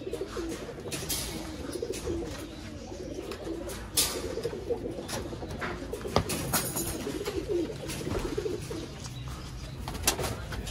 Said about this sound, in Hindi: छत वाले और मोतियों वाले चूहे कबूतर